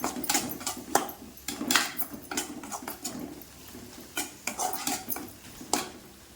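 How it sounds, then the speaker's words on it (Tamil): Onions sautéing with garam masala in a pan for rajma curry, heard as repeated close scraping and clanking of a spatula against metal over a faint sizzle. "இப்போ இதில் வந்து கொஞ்சம் கரம் மசாலாவும் போட்டுக்கிறேன். போட்டு வதக்குவோம்."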